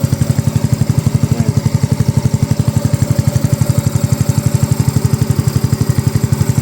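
A Yamaha Mio 125i scooter with a 54.5 mm block, stock cam and fuel injection idles just after starting, a close, loud, steady low thrum of rapid even pulses with no speech over it.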